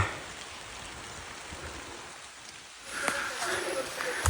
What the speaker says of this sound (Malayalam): മഴയും പെയ്യുന്നുണ്ട്